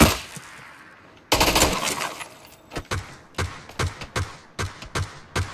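Gunshots in a first-person shooter video game, a sudden loud burst followed by a steady series of sharp, evenly spaced single shots, close and without talk.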